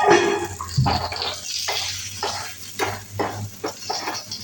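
Something fries in a pan while a spoon stirs it toward browning, with a steady soft sizzle under repeated scraping strokes that come every half second or so, close and fairly loud, no voices.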